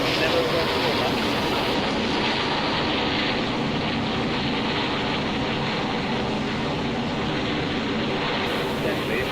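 A jet aircraft engine roars with its afterburner lit in a flight simulator game, a loud, dense, continuous rushing roar that stays steady throughout and covers any other sound.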